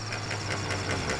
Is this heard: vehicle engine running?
yes